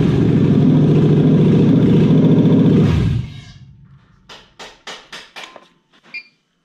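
A Toyota 1UZ-FE V8 swapped into a Gen 2 UCF20 runs with a loud, close, steady low rumble for about three seconds, then cuts out, leaving a quick series of sharp clicks.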